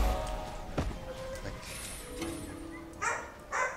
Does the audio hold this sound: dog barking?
yes